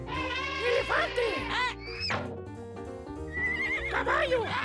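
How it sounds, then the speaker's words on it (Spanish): A horse neighs and whinnies several times in a cartoon animal-sounds scene, the shrill whinnies set against a steady musical backing, with a voice calling out briefly in between. "¡Caballo!"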